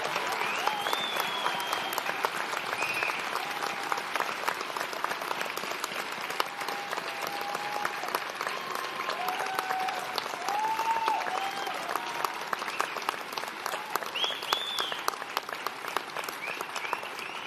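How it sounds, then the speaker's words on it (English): A large audience at a Salford Business School graduation ceremony breaks into sustained applause, a steady dense patter of many hands clapping that holds evenly throughout, with faint cheers rising here and there. "let's have a big round of applause."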